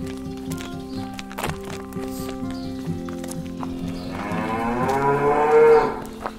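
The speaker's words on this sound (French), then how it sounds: "Ici nous avons la plus grosse partie où il y a toutes les vaches et tous les veaux" Cattle on a farm with cows and calves, a loud drawn-out moo rising near the end over a background of barn noise, soft clopping and scattered knocks.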